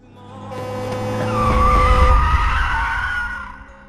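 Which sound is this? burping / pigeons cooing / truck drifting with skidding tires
truck drifting with skidding tires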